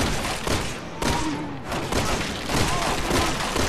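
Gunfire in the Resident Evil 6 video game: a dense run of rapid shots and thuds that continues without a break through the whole stretch, loud and close.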